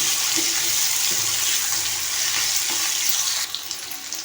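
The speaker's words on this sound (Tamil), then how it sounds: "வதக்குவோம்" Garlic sautéing in a pan for chicken gravy, a loud continuous sizzle and frying hiss with faint stirring scrapes, dropping slightly in level near the end.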